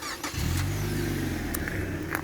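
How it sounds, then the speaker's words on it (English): Idling engine of a Mitsuoka Roadster 2.0 with Powershift automatic gearbox, a steady low hum that starts after a brief quiet moment and runs continuously and fairly close, with faint mechanical clicks above it. "It's always advised to run the engine whilst we do that."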